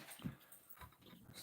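A dog whimpers and yips faintly in a home, with a few short soft cries heard at a distance over quiet room noise.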